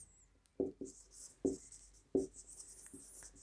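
Pen or marker writing out a point on a board during an English grammar lesson: a few distinct scratchy strokes and taps spaced apart, moderately close, over faint background hiss.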